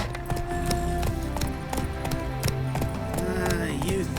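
A horse gallops in the Witcher 3 video game, with rapid, rhythmic hoofbeats over a layered musical and ambient game soundscape, steady and close.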